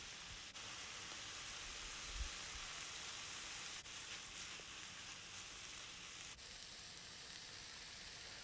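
Tuna escabeche sizzles steadily in a pan after dried oregano goes in, a dense, even frying hiss that holds throughout with no one talking.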